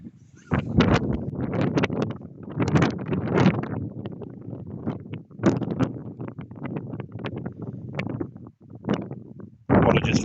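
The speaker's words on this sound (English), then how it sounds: "Apologies for the wind noise," Wind buffets the microphone at castle ruins, a continuous gusty rumble and rustle that surges and drops throughout, loud and close, with a brief lull near the end before another strong gust.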